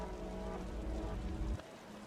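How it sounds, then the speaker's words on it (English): Heavy rain in the video game Wuthering Waves, heard as a dense, steady wash of rainfall with a low rumble. It cuts off abruptly near the end and leaves a quieter bed of sound. "The rain's getting heavier."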